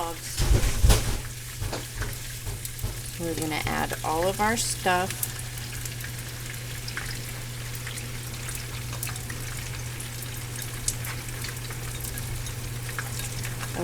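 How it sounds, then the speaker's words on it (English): Thinly sliced leftover prime rib sizzles as it stir-fries for Korean beef bulgogi. A steady frying hiss runs throughout, with clattering stirring early on and a person talking over it briefly. "with your really thin sliced raw meat, you just stir fry it until it's done."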